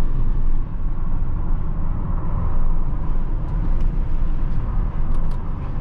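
A Volkswagen T-Roc climbs a mountain road, its engine a loud, steady low rumble mixed with road and tyre noise, heard from inside the cabin with no talk.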